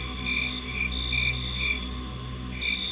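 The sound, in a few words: crickets chirping at night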